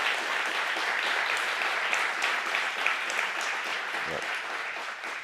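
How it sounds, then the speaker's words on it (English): A crowd applauds at a civic event celebrating Google Fiber's arrival in Louisville, a steady, even wash of many hands clapping that holds at a constant level before fading slightly. "Google Fiber really deserves a big round of applause for that"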